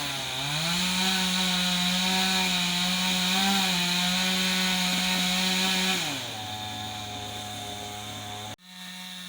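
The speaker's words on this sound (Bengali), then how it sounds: "গাছটির গোড়াটা কাটছে দাদা তো এটাই হচ্ছে গাছ কাটার মেশিন" A chainsaw cuts through the base of a tree, its engine roaring loud and steady, dropping to a lower labored pitch partway through before cutting off abruptly, with no voices.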